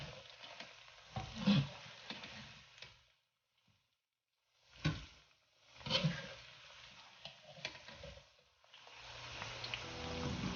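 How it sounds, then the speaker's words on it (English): Quiet sizzling and bubbling of pork deep frying in oil, with a few soft clinks and stirring sounds, pausing briefly midway before resuming. "I'm gonna fry for about 30 seconds"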